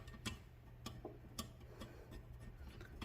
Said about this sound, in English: I'm going to torque to 23 foot-pounds.